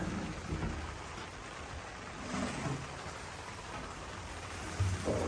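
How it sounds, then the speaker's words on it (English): Steady rain falling outdoors around a smoker cooking hams and turkeys on Thanksgiving, a dense continuous patter with faint low rumbles underneath and no talking. "And just a bunch of rain"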